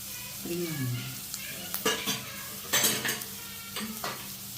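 Ginger and spring onion frying in a pan for chilli chicken, a soft sizzle punctuated by several sharp scrapes and clinks of a spatula stirring against the pan.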